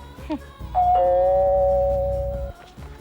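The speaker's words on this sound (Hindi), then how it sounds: "जब डोरबेल तुमने पहले सुनी तो फिर जाके दरवाजा क्यों नहीं खोला?" A doorbell gives a two-tone ding-dong chime, clear and close, ringing out once over a faint background.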